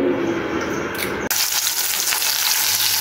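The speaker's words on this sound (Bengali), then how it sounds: "ইলিশ মাছ ভাজতেছি দুপুরবেলা, ইলিশ মাছ ভাজা, বেগুন ভাজা।" Hilsa fish frying in a pan at midday makes a loud, dense sizzle that shifts abruptly partway through, as if the pan is moved or the fish turned, then carries on steadily.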